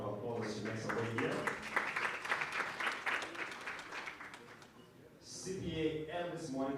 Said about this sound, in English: Let's give her a round of applause as she makes her way here